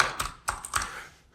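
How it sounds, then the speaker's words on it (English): A loud computer keyboard being typed on up close, with three or four sharp, separate keystroke clacks spaced through a short, quiet moment and no voices. "I have a really loud keyboard."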